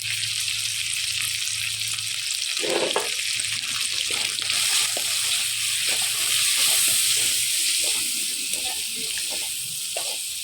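Rohu fish head fries in a pan with salt, turmeric and spices, giving a loud, steady sizzle with occasional stirring scrapes and clinks throughout.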